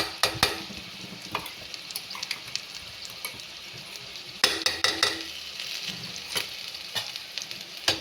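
Spice paste of cumin, ginger, coriander, chili, turmeric and garam masala frying with potatoes and pointed gourd in a pan, a steady sizzle broken by repeated sharp scrapes and clinks of a spoon stirring against the metal.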